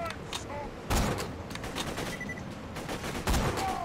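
Gunshots in the PC shooter Borderlands 2: two sharp, loud bursts of fire about two seconds apart, with fainter game effects and background sounds between them.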